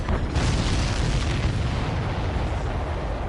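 Explosions in the Ace Combat 7 video game: a dense, continuous rumble of booming blasts fills the whole stretch at steady loudness, with no talk.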